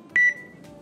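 Single short electronic beep from a smart speaker acknowledging its wake word and switching to listening mode, clear and close in a quiet room with no talk over it.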